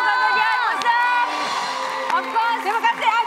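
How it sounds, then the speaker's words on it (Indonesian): A lively crowd cheers and whoops, a steady roar of voices with sharp shouts rising above it. "Tepukan untuk Farah Fauzana."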